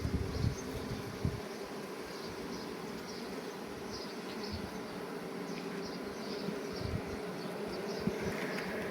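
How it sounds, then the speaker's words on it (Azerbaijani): Honey bees pour out of a brood frame with larvae, a dense, steady buzzing hum of many insects close by that stays unbroken and fairly quiet, with no talking. "Baxın, bu sürfəli çərçivədən də tamamilə arılar çıxıbdır."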